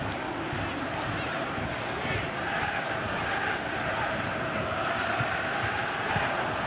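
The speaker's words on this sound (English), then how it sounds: "Crowd appreciates good football all round there." A stadium crowd in a football video game keeps up a steady, distant roar and murmur, even and unbroken, with faint voices woven through the din.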